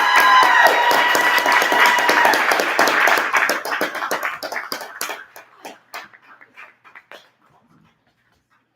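Applause and finger snaps from an audience at a poetry open mic, dense and lively at first, then thinning into scattered claps and snaps that die away to silence.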